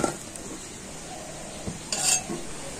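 Fried potatoes lifted out of a wok with a spatula: a background sizzle of oil with metallic scrapes and clinks, including a louder scraping swipe near the end.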